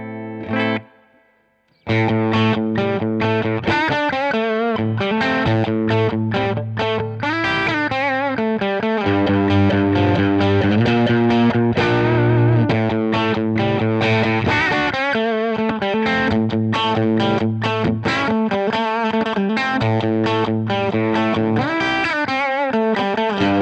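Electric guitar through an overdrive pedal plays chords and riffs with a warm, crunchy distortion, loud and continuous after a brief opening pause.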